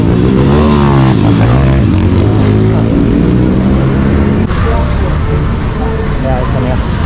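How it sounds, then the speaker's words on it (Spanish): A motorcycle passes on a busy city street in Medellín during Halloween, its loud engine revving and droning up close amid traffic noise and street chatter. "el conejo ahí manejando moto"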